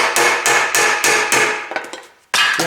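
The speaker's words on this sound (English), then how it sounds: "in that area I install knife and then hammer. Now hammer carefully." A hammer taps a dull knife into the glued joint of a Ford Duratec engine oil sump, giving about six sharp, evenly spaced metallic strikes up close, then a pause and one more hit.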